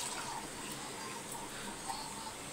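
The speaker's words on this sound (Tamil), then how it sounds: "முருங்கைக்காய் வெந்த பிறகு தான் புளி தண்ணி சேர்க்கணும்" Tamarind water pours into a pot of drumstick sambar, a soft, steady, faint splashing hiss that continues unbroken for a few seconds.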